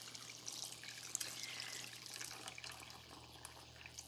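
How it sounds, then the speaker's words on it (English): About three cups of water pour steadily into a pot of hamburger soup, a soft continuous trickling splash with a faint low hum behind it. "we're going to add some water."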